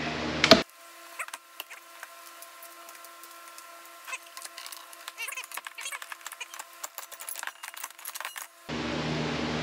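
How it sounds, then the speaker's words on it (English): Metal clamps are loosened and taken off a freshly glued wooden cutting board, giving scattered light clinks, ticks and rattles at irregular intervals, close and quiet against near silence. "let's take off some clamps and see what we got"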